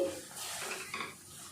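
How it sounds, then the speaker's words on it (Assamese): A spoon scrapes through eggless mango cake mixture in a pan over low heat, giving a few soft, faint stirring strokes with a quiet background hiss. "গতিকে জুইটো কমাই এইদৰে আপোনালোকে লৰাই থাকিব"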